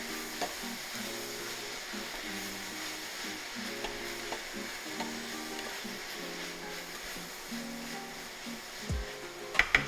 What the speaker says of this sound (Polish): Wszystko mieszamy.